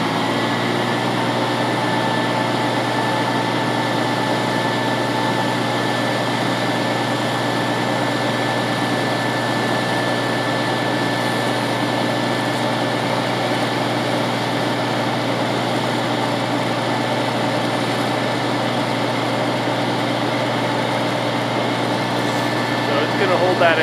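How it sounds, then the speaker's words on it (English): A Hypro FG45-FA grapple saw on a radio-controlled knuckleboom crane runs through a tree-removal cut, giving a steady mechanical whine and hum that holds level throughout, with someone talking over it. "and now we'll activate the saw."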